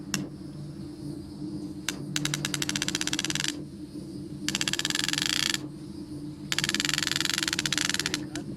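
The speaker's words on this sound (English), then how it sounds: "Now, tighten the braid with the ratchet system." A ratchet tightens braided fence on a post with bursts of rapid ratcheting clicks, each lasting about a second, coming one after another over a low background hum.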